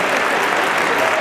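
Steady audience applause fills a Phoenix Comicon 2014 spotlight panel, dense and continuous throughout, with a voice faintly audible beneath the clapping.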